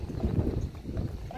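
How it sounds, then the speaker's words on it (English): Horse hooves clip-clop in a steady walking rhythm near the Parliament Building in Victoria, BC, fairly close, with people talking over them throughout. "There's a horse over there."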